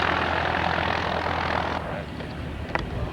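A small single-engine airplane taxis out for takeoff on a first solo flight, its propeller engine droning steadily and loudly nearby, with one brief click near the end.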